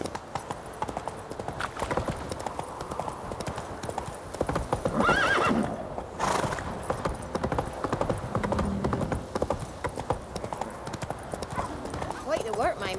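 Horse hooves clip-clop steadily at a gallop through the whole stretch in The Witcher 3, with a whinny near the middle and game voices and ambience running beneath.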